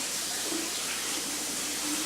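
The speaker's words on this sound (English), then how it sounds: "We're going to go ahead and give them a rinse." Steady running tap water rinses cut potatoes, splashing continuously, a soft hissing wash with no talking.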